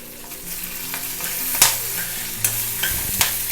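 Shallots and green chillies fry in a pan with a close, steady sizzle and a few sharp stirring scrapes and taps spaced through the short stretch, with no voices.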